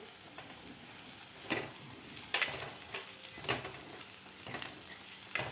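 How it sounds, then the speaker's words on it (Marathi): Crushed peanuts and green chillies sauté in a pan, giving a soft, continuous sizzle broken by several sharp scraping stirs of a spoon against the metal, close and fairly quiet. "शेंगदाण्याचं कूट घातल्यानंतर आपल्याला दहा ते पंधरा सेकंद आपल्याला हे व्यवस्थित परतून घ्यायचं आहे"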